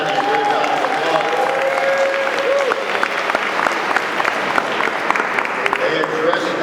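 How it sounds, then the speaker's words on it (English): Applause from a crowd at a political event, dense sustained clapping holding steady throughout with a voice faintly heard within it. "Let's give Bergen County a great round of applause"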